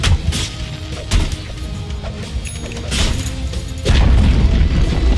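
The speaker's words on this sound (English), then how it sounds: "Dire's middle tower has fallen." Tower destroyed in the Dota 2 video game: a series of heavy booms and crashing impacts, loud and close, ending in a larger burst of rumbling destruction.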